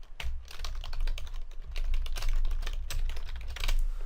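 Fast, uneven typing on a computer keyboard for game programming work, a dense run of close clicks and key thuds lasting throughout, with a low hum underneath and no talking.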